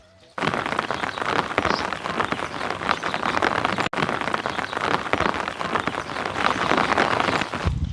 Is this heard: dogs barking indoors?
no